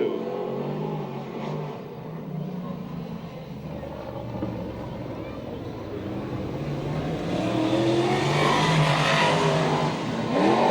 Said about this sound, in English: Here comes the 3 car of Cody Williams from Yorba Linda.